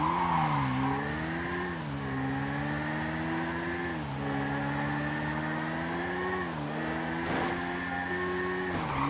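A motorbike rides along an empty road in Grand Theft Auto 5, its engine a steady close drone that rises and falls with gear shifts and throttle changes, carrying on with no break.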